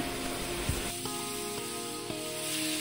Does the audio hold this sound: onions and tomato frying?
yes